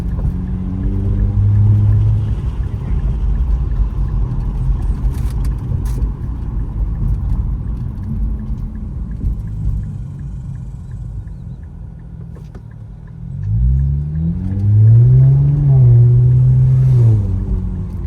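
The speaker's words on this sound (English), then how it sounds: "The exhaust sounds good." An Infiniti Q50S 3.0t engine rumbles steadily at close range, then revs up near the end with a deep, throaty exhaust note. No talking.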